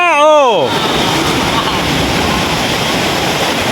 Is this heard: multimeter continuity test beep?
no